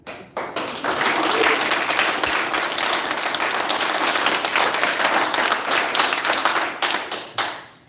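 Sustained applause from a crowd at a council meeting, steady loud clapping filling the whole stretch before tapering off at the end.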